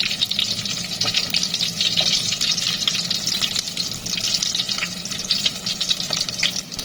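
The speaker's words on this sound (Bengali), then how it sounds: "দেখেন কি সুন্দর ফ্রাই হয়ে যাচ্ছে।" Chicken frying in hot oil for a quick fried chicken dish, a steady dense sizzle and crackle running throughout, fairly loud and close with no talk.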